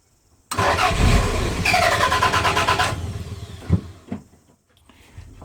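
A Toyota MR2 with a start-and-stall fault cranks on ignition, a loud close burst of starter whirring and engine noise running about two and a half seconds, then fading into a few short knocks and clunks.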